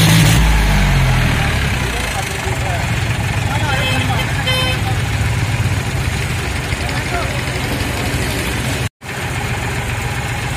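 A John Deere 5105 40 HP tractor engine cranks and fires with a loud burst, then settles into a steady, close diesel idle that runs throughout, with voices talking over it.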